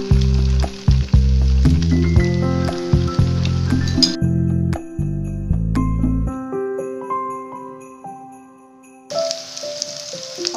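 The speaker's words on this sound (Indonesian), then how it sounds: "Kemudian kita goreng menggunakan api sedang saja ya." Potato fritters (perkedel) sizzle steadily in hot oil over medium heat beneath loud, tuneful background music that fades out, with the frying hiss swelling again near the end.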